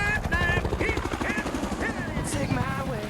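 A voice imitates a toy helicopter's whirring and chopping, a continuous buzzing drone with rhythmic pulses that stays loud and close throughout.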